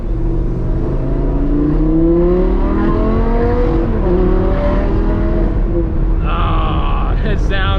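A modded Audi R8 V10 with a loud aftermarket exhaust accelerates hard, its engine note climbing through the revs and dipping at a gear change before pulling again, heard close and very loud from inside the car.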